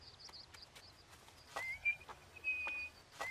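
A person whistles short tonal phrases, rising and holding steady notes, fairly close, with faint birdsong and light rustling in a quiet outdoor setting.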